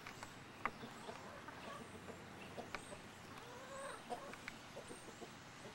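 Several chickens cluck and chatter softly at a moderate distance, a busy overlapping murmur of short calls with an occasional sharper squawk.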